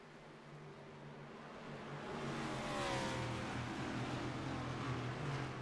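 Stock race cars roar around Daytona in the iRacing video game during a Sports Cards Cup Series race, a blended engine drone that swells louder midway and then holds steady, fairly quiet, with no talking.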